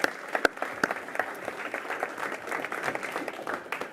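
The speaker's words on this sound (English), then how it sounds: "we'll give them one more round of applause" A crowd applauds steadily at a school board meeting, a dense patter of clapping from a room full of people, moderately loud throughout.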